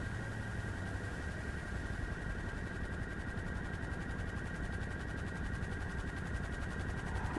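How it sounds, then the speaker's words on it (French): A helicopter in a roleplay video game drones steadily and close throughout, its constant whirring rotor and engine noise holding an even level with no talk over it. "Qui est un hélicoptère, là?"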